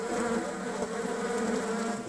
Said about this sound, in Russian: Тут у нас труба, и она гудит. В этой трубе осталось небольшое количество пчел.